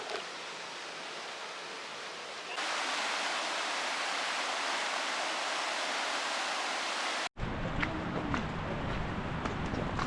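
A waterfall in the Albanian Alps roars in a dense, continuous rush that grows louder, then cuts to a closer, rougher stream of water with some handling noise.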